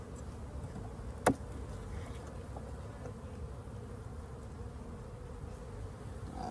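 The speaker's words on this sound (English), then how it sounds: "Maybe 2 frames, 3 frames of bees in this deep." Steady low insect buzzing of many honeybees in a hive deep box during an early spring inspection, close by, continuous throughout, with one sharp brief click near the start.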